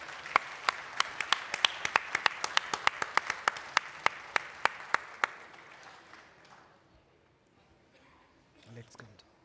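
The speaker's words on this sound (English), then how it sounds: "Let's have a huge round of applause for the team here." An audience at a corporate summit claps in a loose, fairly steady rhythm of sharp individual claps that thins out and fades to near silence, with a brief murmur at the end.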